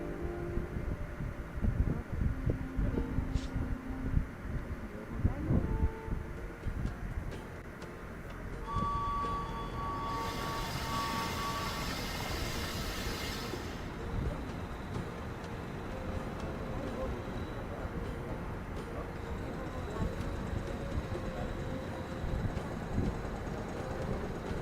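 A steady, continuous rolling rumble of the Orient Express train in an Agatha Christie Murder on the Orient Express video game carries on throughout, with a brief brighter whooshing swell partway through.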